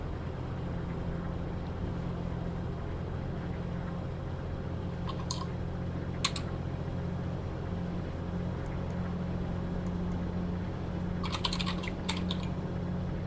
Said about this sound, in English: you got a loud keyboard. That's that G710, man.